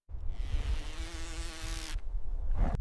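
A drone's steady mechanical buzz with a whining tone hovers overhead, cutting out briefly before resuming.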